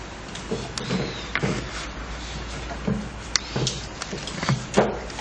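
A Mini3D vacuum sublimation printing machine being loaded with a t-shirt makes a series of irregular clunks, slides and plastic knocks over a low steady hum, close and moderately loud.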